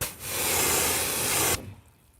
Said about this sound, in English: I'm going to give it a quick little rinse.